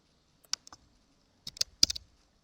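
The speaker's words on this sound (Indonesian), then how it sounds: "kita ketik sini" Short bursts of computer keyboard typing, a few isolated clicks and then a quick cluster of keystrokes, close and crisp against near silence, with no talking.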